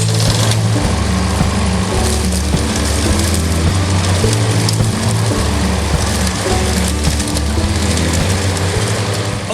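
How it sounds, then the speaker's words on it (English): Loud, steady engine drone of a small lawn mower running continuously at close range, with rattling and shifting pitch as it cuts. "got that all cut with the small lawnmower"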